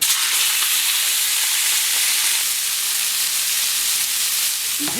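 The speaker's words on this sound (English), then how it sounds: "Butter's getting hot now. Shrimp in." Shrimp sizzle in hot butter in a pan, a loud, steady, bright hiss that fills the whole stretch without pause, with faint crackles under the continuous frying noise.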